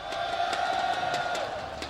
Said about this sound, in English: Azrai, how about you guys cheer a little bit so SMG at the back, they can hear you guys